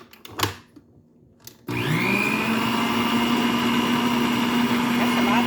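An electric mixer starts up after a few knocks and whirs steadily and loudly through sugar cookie dough, a constant motorized drone with a rising pitch at startup.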